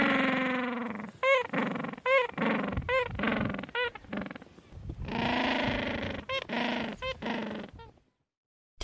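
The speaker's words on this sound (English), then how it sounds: "penguin," A penguin calling in a series of harsh, braying honks and squawks, repeated in rapid bursts close up for about eight seconds before ending in silence.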